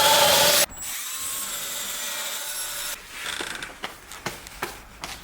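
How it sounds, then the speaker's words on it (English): A power drill bores into a garage door frame, whining steadily up close for a couple of seconds before giving way to scattered scraping and knocking of the tool against wood, with no voices. "we'll figure out where to drill the door frame"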